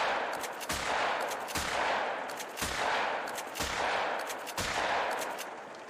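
A cacciatore shotgun in the hunting game theHunter fires six evenly spaced shots, each a sharp crack with a ringing tail, steady rhythm over a continuous outdoor ambience.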